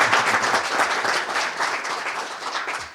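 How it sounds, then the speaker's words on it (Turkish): A ceremony audience at a Turkish higher-education awards event for barrier-free universities breaks into sustained applause. Many hands clap steadily and densely for the full three seconds, loud and close. "Bütün üniversitelerimizi de bir alkışlasak arkadaşlar"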